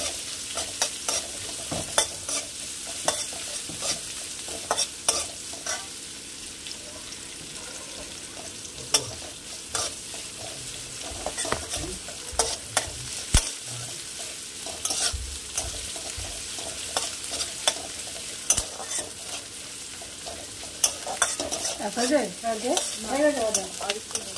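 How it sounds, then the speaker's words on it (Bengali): Chopped onions frying in a pan until reddish for Punjabi kadhi, with steady sizzling and repeated stirring scrapes through the whole stretch, close and moderately loud with no talk. "পেঁয়াজটা একটু লাল করে ভাজতে হবে।"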